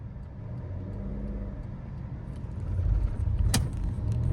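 A car engine idles and then revs slightly harder during an uphill hill-start driving lesson, a steady low hum that swells near the end, with a brief click inside the cabin.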